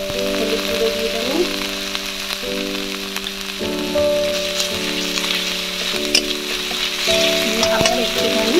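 Mixed vegetables and fish head cooking with turmeric and spices in a pan, a loud continuous sizzle with stirring scrapes, while a steady musical tone plays underneath throughout.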